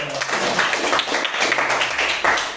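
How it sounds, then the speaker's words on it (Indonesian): Audience clapping in a classroom, a steady, fairly close patter of many hands lasting the whole moment with no talk over it. "Oke, tepuk tangan dulu"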